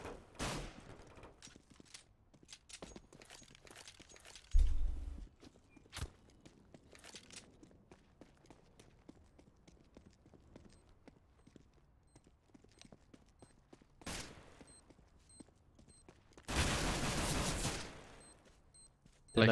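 Gunfire and footsteps in the online shooter game CS:GO: scattered sharp shots and clicks over steady game noise, with a loud burst of rapid fire near the end, no talk.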